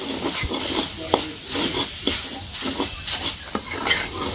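Food frying in a pan is stirred with a utensil, giving a constant sizzling hiss broken by periodic scraping and knocking strokes, close and fairly loud.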